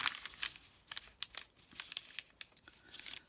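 Crisp, crunchy paper being folded and crinkled by hand for a vintage ladies' fashion journal, a close, irregular series of sharp rustles and crackles with brief pauses between handlings.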